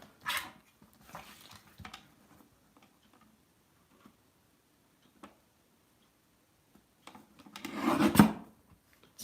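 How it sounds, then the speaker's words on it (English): White watercolor cardstock is trimmed by hand, giving a few short, soft scraping and cutting strokes with quiet gaps between them and a louder rasping burst near the end. "So I'm trimming this down so it doesn't look so squarish."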